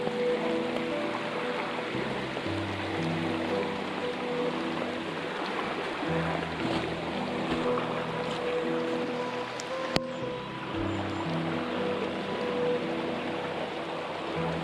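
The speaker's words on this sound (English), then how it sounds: "Very rocky river." A rocky river by the Loughry campus in Cookstown, County Tyrone, flowing with a steady broadband rush of water over stones, continuous and fairly close, with a faint tonal hum underneath.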